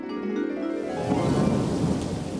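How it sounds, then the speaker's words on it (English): Thunderstorm sound effect for a puppet show, a low rumble of thunder swelling over steady rain, loud and alone with no talking. "I'm tired of all the rain we've been having this week."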